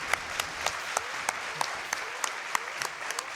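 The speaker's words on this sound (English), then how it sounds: "Thanks for all the claps." Audience applause during a live Mario & Luigi: Superstar Saga speedrun at Awesome Games Done Quick 2018: a soft, steady patter of many hands clapping in a hall, heard over game sounds with sharp sound-effect hits.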